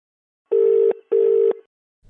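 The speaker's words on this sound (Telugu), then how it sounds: "రింగ్ అవుతుంది." Ringback tone of a WhatsApp call: two steady electronic beeps of equal length separated by a short gap, clear and close, with silence around them.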